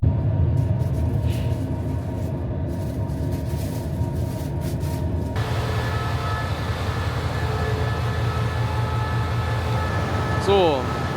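Thai overnight train 32 from Hat Yai to Bangkok, heard from inside a first-class compartment: a steady loud rumble with rhythmic wheel clatter, air-conditioning hum and a brief high squeal near the end.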